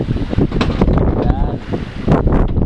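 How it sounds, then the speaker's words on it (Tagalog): Wind buffets the microphone in steady gusts by the sea after fishing, with someone talking over it and faint water nearby. "Medyo mahangin pero try lang natin mga idol"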